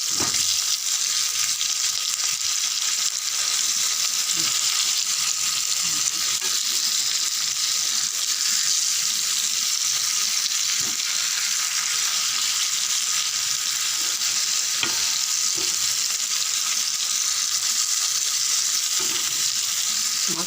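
Pomfret fish frying in hot oil, giving a dense, continuous sizzle that stays loud and even throughout, with occasional faint clinks in the background.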